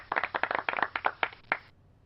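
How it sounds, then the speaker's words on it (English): A short, sparse round of light claps from a few hands, a dozen or so soft claps spread unevenly and then stopping, close and quiet with no talk. "Golf clap."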